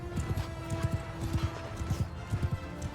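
Many horses thud in galloping hooves across a battlefield in Mount & Blade II Bannerlord, a dense rhythmic clatter at moderate distance, steady and without talk.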